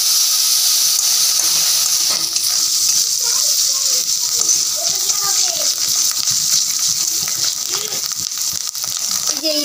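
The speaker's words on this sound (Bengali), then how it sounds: "এইটা আদা রসুন, আদা রসুনকে মানে পেস্ট করা আছে, এইটাই ঢেলে দিচ্ছি" Ginger garlic paste poured into hot oil in a home kitchen pan, giving a steady bright sizzle and hiss throughout, with a person talking over it.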